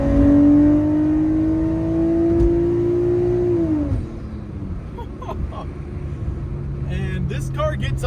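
A Nissan Skyline GTS-T's RB straight-six engine revs high with a steady rising drone, then drops off around the midpoint into a lower idle rumble, with faint clicks near the end.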